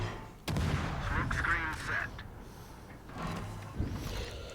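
Naval gunfire in the World of Warships game, with several heavy booming volleys from the Cossack B destroyer. The blasts are loud and close, and rumbling low echoes run between them.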